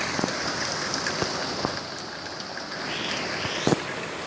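Heavy rain pours steadily during a late-June afternoon storm, flooding a porch and running into a storm drain; a close, constant wash of rain is broken by a few louder nearby drips and splashes, with no voices.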